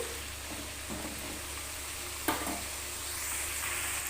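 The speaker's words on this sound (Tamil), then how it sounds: "தக்காளி கொஞ்ச நேரம் அப்படியே வதங்கட்டும்" Tomatoes sautéing in a pan with green chillies for a mixed-vegetable poriyal, a low steady sizzle with light stirring scrapes and a brief clatter midway.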